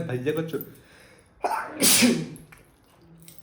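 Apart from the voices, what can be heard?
sneeze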